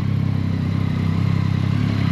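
A Yamaha MT-09 with the Y-AMT automated gearbox idles nearby with a low, steady mechanical drone and faint clatter, the engine note holding even without a clear rev climb and no voices over it.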